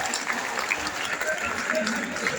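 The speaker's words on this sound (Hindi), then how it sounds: "तालियां रुक लीजिए, तालियां पर जोरदार" Lively applause rises from an audience at an honouring ceremony, a continuous crackle of clapping with voices mixed in.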